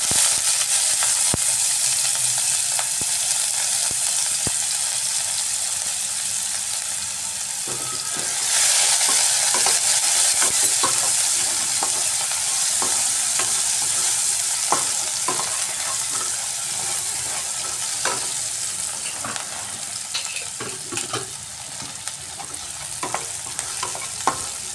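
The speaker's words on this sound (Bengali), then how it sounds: "পেঁয়াজটা ফ্রাই করে নিচ্ছি।" Chopped onions fry in hot oil with a little salt, a continuous bright sizzle running throughout, with occasional scrapes and taps of a stirring spoon.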